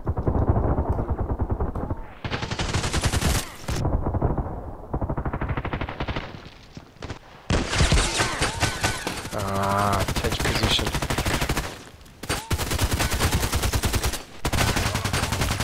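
Gunshots from the HK USP and other weapons in Contract Wars ring out loud and close in rapid repeated bursts, with short gaps between volleys and no talking.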